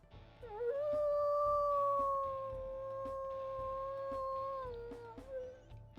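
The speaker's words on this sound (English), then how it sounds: "let's also listen to his howls." A long, steady wolf howl from a video game holds one pitch for several seconds, then dips and trails off with a short secondary yelp, set against a faint background bed.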